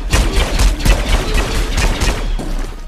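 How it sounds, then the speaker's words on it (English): A Star Wars blaster rifle mod fires in Battle Talent VR, a rapid burst of loud, punchy zapping shots in quick uneven succession, close and prominent throughout with no speech. "this sounds like a freaking blaster as well"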